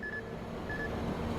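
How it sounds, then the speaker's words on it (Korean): Inside a car, an AI driving-safety system sounds its phone-use warning: two short, thin electronic beeps about half a second apart, faint over low cabin and road noise. "네, 방금 경보음이 울렸는데요."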